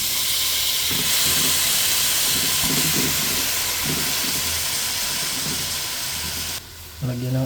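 Chicken wings go into a hot pan of browning aromatics for tenola, giving a loud, continuous steamy hiss and sizzle with rhythmic low thumps underneath, cutting off abruptly near the end.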